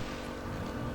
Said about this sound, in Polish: Tę motorówkę rozpędzamy